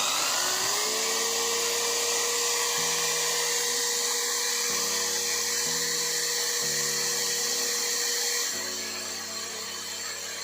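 A DCA AZJ16 impact drill winds up and runs at its highest speed, a steady whining motor hum with stepped shifts in pitch, fairly quiet and close, with no talking.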